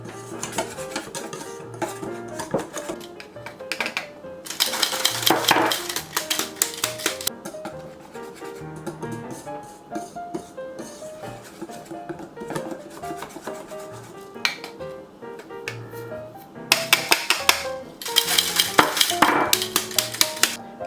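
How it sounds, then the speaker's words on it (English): Chocolate Swiss roll batter mixed in a bowl, with repeated scraping and clinking of a utensil against the bowl in uneven bursts, some stretches busier and louder, over a faint tonal background. "And mix like this."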